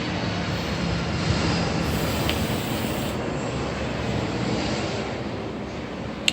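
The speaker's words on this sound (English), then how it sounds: "here's a plane again" An airplane passes overhead as a steady, broad roar of engine noise that holds at a constant loud level throughout, with no voices over it.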